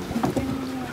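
Small jet skis out on the water at a camping spot in Las Landas, a steady engine drone holding a single tone, fairly distant and continuous throughout.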